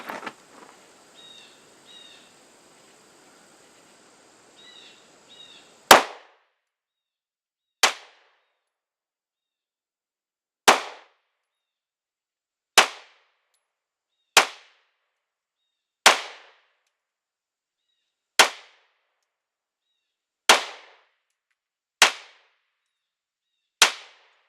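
Ten sharp pistol shots from a Glock 19 Gen 5 with upgraded sights, fired at targets 10 yards away on a range. They crack at a steady pace of about one every two seconds, after a few seconds of faint handling noise.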